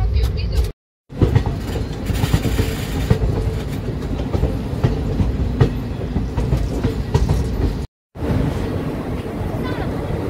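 Kanchanjungha Express rolling into Malda Town station, steady loud rumble with rhythmic clickety-clack of wagon wheels over rail joints, close and continuous apart from two brief cuts, with faint voices mixed in.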